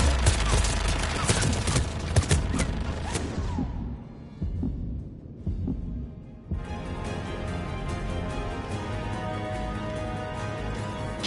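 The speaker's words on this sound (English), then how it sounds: "The turret can't fire on us from here." Turret gunfire in the Mass Effect 3 video game, a dense rolling fusillade of shots that drops away briefly midway, then resumes as sustained steady firing with some talk mixed in.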